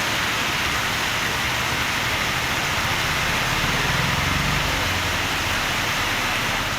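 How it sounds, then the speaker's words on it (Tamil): Heavy rain pours down in Tamil Nadu, a dense, loud, unbroken hiss of falling water that fills the whole scene with a faint low rumble underneath. "கனமழை கொட்டி தீர்த்தது."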